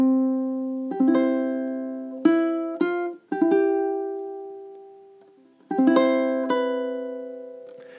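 A beginner fingerstyle ukulele picks measures 9 and 10 of The First Noel: clear plucked notes and small chord clusters ring out one after another in a slow, gentle rhythm, alone in a quiet room.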